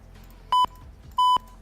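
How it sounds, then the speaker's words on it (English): Two identical short, loud electronic beeps, the kind of free sound effect used to censor swearing, separated by a brief gap of quiet. "Let's turn down the beep."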